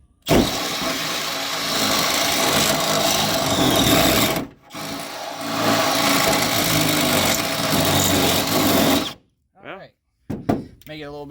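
Power drill boring out a hole through a school bus pillar for wiring, a loud steady whirring grind in two long bursts with a brief pause between, then trailing off into scattered small noises.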